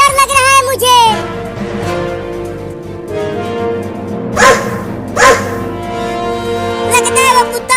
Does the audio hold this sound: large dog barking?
yes